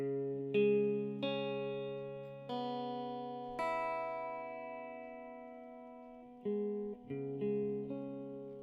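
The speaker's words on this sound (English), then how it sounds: "Right now, I'm running a clean tone out of a Fender Blues Deluxe Reverb." Clean electric guitar notes and chords through a Fender Blues Deluxe Reverb tube amp ring out with long, warm sustain, played as a slow sequence of separate plucks with no voices.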